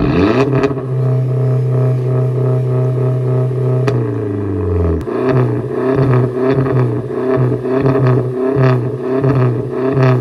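A VW Golf Mk6 1.4 TSI with a decat, non-original exhaust holds a loud, steady high rev against its 4000 rpm limiter, drops briefly midway, then climbs back to a droning, slightly rough rev, close and alone.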